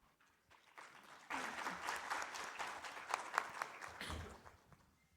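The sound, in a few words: audience applause at the end of a panel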